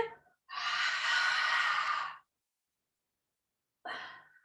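A long, forceful breath out during a Pilates breathing exercise with a small ball, one sustained exhale followed after a pause by a shorter second breath, close and alone.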